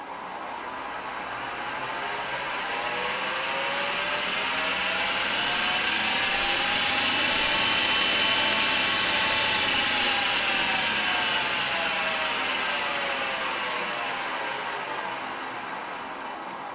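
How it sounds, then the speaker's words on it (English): An electric lathe motor driven by a VFD whines steadily up to full speed, its pitch climbing as it accelerates, holds at speed, then winds slowly back down as it stops, with no talking over it. "Let's just start the motor for a second and let it spin up to full speed and then stop it."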